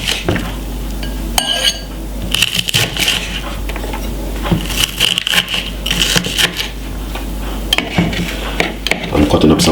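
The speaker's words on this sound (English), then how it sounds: "I'm cutting up some white onion." A knife cuts up a white onion for Jamaican stew chicken, with loud close chops, knocks and clinks of utensils on a board in an irregular rhythm.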